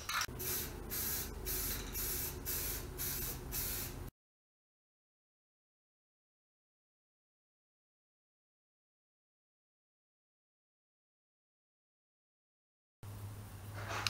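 Short spray-can bursts of primer on metal rock sliders, several quick hissing puffs in a steady rhythm, close and fairly loud, followed by a long silence and a brief sound near the end.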